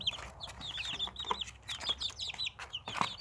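Young chicks moved into new quarters make repeated high peeping chirps mixed with soft clucks. The calls are close and fairly busy, with no talk.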